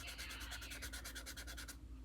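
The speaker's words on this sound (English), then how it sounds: "I'm using this to smudge some of the creases" Pencil creases on a vinyl reborn doll are smudged with quick, regular back-and-forth rubbing strokes, a soft close scratchy rasp repeating steadily about ten times before stopping, with no voices.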